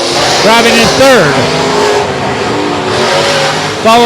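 Touring outlaw modified race cars roar around the Heart O' Texas Speedway, engines revving and swooping past in loud rising and falling waves, with an announcer talking over the racing.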